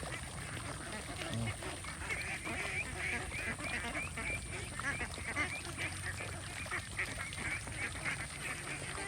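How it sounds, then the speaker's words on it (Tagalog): Free-range ducks run loose and quack continuously in a dense, busy flock chorus, fairly close and steady, with occasional goose-like honks mixed in. "Yan yung kasiyahan ng mga itik."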